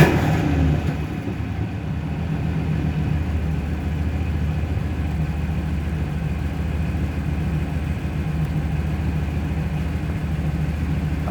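A car engine idles and revs lightly as gas is applied, a steady low rumble heard from close by with no speech over it.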